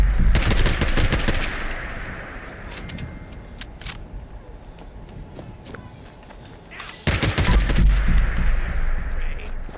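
Automatic weapon fire in the video game Fallout 76 comes in two loud rapid bursts, one at the start and another near the end, with quieter game ambience and scattered single clicks between them.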